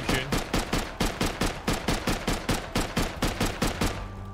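Rapid automatic gunfire in the survival video game Rust, a long evenly spaced burst of about twenty close, loud shots with no pauses and no voices over it.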